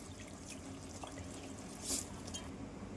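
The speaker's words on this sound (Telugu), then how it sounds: "ఇప్పుడు రైస్ అయితే వేసేస్తున్నానండి" Soaked rice tipped into a pot of cooked chicken for pulao, giving a soft wet pour and patter with a brief louder splash near the end, close and fairly quiet.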